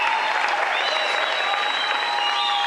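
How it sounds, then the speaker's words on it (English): A diving championship crowd bursts into steady, dense applause that carries on evenly throughout, with a whistle-like tone riding over the clapping. "Instant applause from the crowds"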